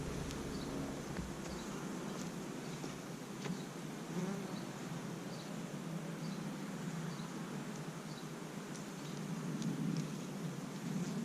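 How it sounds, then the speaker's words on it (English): A honey bee colony hums inside an open hive during an inspection, a steady low buzzing drone with a few nearer bees passing, faint and continuous without talk. "And that is just a beautiful colony of bees."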